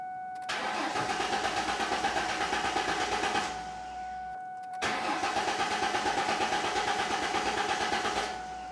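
A 1994-2004 Ford Mustang engine cranks and catches on the key, then runs at a steady idle, cuts off, and restarts into another even idle, loud and close with a constant whine over the engine note.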